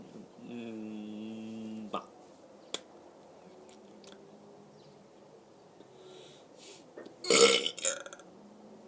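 A long, droning belch with a steady pitch opens the sequence, followed by scattered small clicks and mouth noises in near silence, then a final loud, raspy burp close to the microphone.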